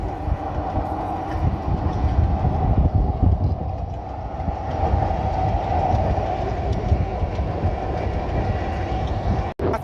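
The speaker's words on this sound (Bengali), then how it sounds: "এই যে ট্রেন যাচ্ছে" The Padma train rumbles steadily past close by, a continuous loud roar of wheels and carriages with faint rhythmic clatter, no voices.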